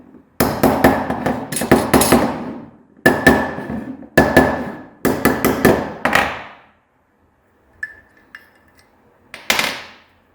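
Hard metal hammer strikes drive a Porsche 911 CV axle joint into place, landing in several quick bursts of ringing blows separated by pauses, then a few lighter taps near the end.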